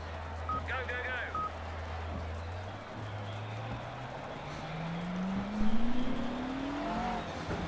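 A McLaren GT3 race car pulling onto a rain-soaked Road America in Project CARS, its low engine drone rising steadily in pitch as it accelerates, with a short electronic beep early on and a voice talking over it.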